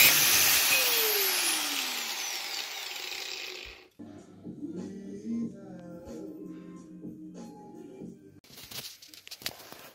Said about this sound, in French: j'ai défait le pare-choc et là je vais couper là